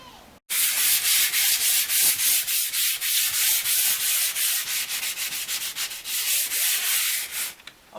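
Steady, rhythmic rasping of 200-grit sandpaper scrubbing over primer on a catamaran deck, loud and close, with repeated back-and-forth strokes running continuously and no talking.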